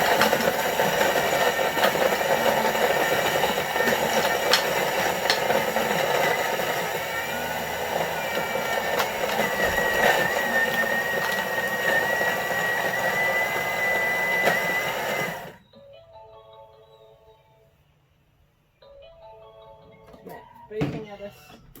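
A Thermomix TM5 kitchen machine crushes ice into snow, its motor whirring loudly with rattling chunks for about fifteen seconds before cutting off, leaving faint clinks and a short final burst.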